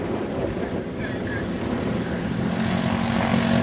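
An Antonov propeller aircraft flying at an airshow, a steady, loud broadband propeller and engine drone that holds throughout with no break.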